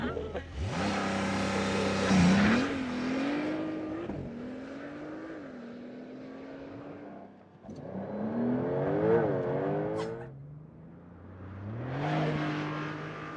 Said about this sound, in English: launch control with Leah.